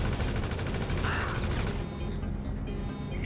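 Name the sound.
gunfire in the video game GTA V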